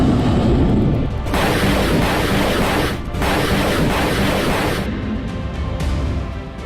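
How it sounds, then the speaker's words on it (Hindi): Taiwanese artillery fires during a war exercise in a loud, sustained wall of booming blasts and rumbling roar, with brief dips between volleys and no talk. "वॉर एक्सरसाइज में ताइवान के जिस आर्टिलरी ने अपनी ताकत दिखाई है"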